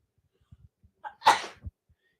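A single sharp human sneeze bursts out close to the microphone after a short intake of breath, loud and brief against an otherwise quiet background.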